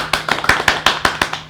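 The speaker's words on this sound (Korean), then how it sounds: "큰 박수로 모시겠습니다" Audience applause greets a guest invited on stage at a Korean talk event about Chinese food tech and restaurants, a short burst of fairly loud, rhythmic clapping with distinct individual claps standing out.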